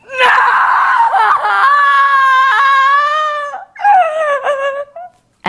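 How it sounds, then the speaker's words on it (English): A woman lets out a long, piercing scream, then a second shorter, wavering cry after a brief gap, loud and close with no other sound. "Listen as she tries one scream with the word no."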